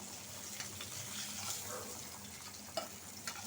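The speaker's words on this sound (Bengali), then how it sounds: "এখন আমি মাছটা দিয়ে দিব" Fish fries in hot oil, making a steady, soft sizzle with faint stirring and a few small pops throughout, heard alone without speech.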